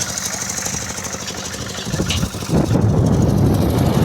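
A walk-behind tractor (motoblock) with a semi-hybrid build, its engine running steadily with a chugging, pulsing rhythm close by. Partway through it grows louder and rougher, as if under more load.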